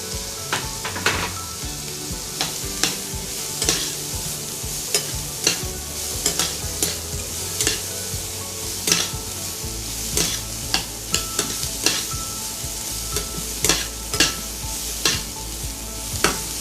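Onions frying in a pan for a papad roll snack, with steady loud sizzling and frequent scraping stirs of a utensil against the pan throughout, and no talking.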